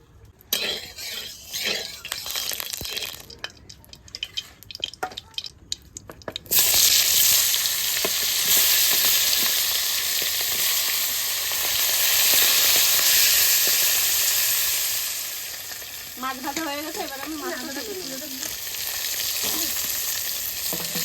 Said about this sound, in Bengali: এবার কড়াইতে তেল দিয়ে দেবো